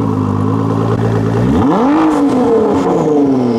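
A 2019 Ford GT V6 engine idles with a steady low rumble, then revs sharply upward and holds a higher, throaty drone, loud and close with no talking.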